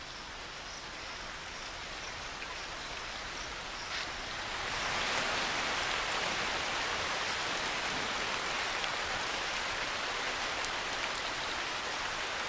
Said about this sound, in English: At daybreak, the rain resumes.